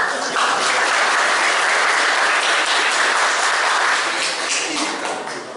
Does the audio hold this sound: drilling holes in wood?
no